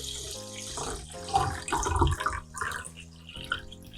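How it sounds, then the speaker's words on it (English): Hot water runs from a tap into a container, a close, steady splashing pour with shifting gurgles as the level rises, alone without talk. "Alright, now I can fill it up with water"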